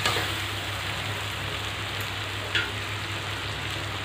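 Hot water poured into a pot of mutton and potato curry, making a steady hissing, sizzling wash of sound with a low stove hum underneath, close and constant.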